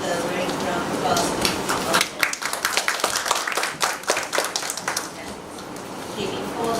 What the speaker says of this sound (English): Let us give a very round of applause.